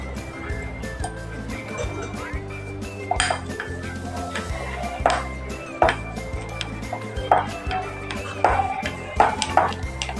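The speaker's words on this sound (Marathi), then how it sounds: "आता हे साखर आणि तूप हे सगळं आपण मिक्स करून फेटून घ्यायचं" Ghee and powdered sugar beaten together in a bowl for nankhatai dough, heard as rapid, irregular clinks and scrapes of a spoon against the bowl, fairly close and continuous.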